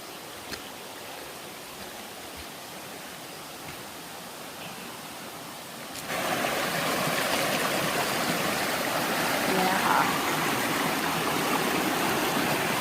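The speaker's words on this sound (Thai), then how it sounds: "นี่ก็ตรงนี้ก็จะผ่านลำธารไปนะคะ" A mountain stream flows with a steady rushing hiss on the trail to Tat Moei Waterfall, Khun Tan, growing noticeably louder and fuller halfway through as it comes closer.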